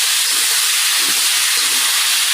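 Pointed gourd (potol) frying in a pan on a gas stove, a loud, dense, steady hiss close by with no breaks and no talk.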